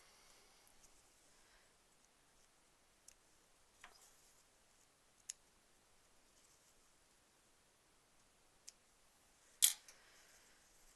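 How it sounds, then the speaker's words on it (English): Scissors snip threads on quilt blocks in a quiet room, a few sparse, faint clicks spread out over several seconds, followed by one sharper, louder snip near the end. "All right, let's snip those away."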